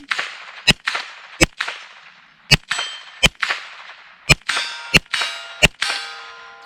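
Sharp metallic clangs ring out about ten times at irregular intervals as rifle shots from a Tippmann Arms M4 22 Pro hit a steel gong, each with a bright, decaying ring, distant and without voices.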